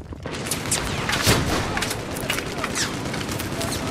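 An M60 machine gun in a video game hammering out continuous fire, a dense rattling stream of shots with occasional louder booms, while people talk over it.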